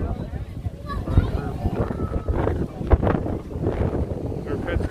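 Strong wind buffets the microphone in steady low rumbling gusts at Walt Disney World, with a person talking over it throughout.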